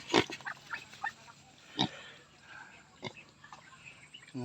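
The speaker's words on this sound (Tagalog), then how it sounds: "Mga baboy, ang tataba." Several short grunts from native pigs come in scattered bursts, close and fairly faint, over quiet background noise.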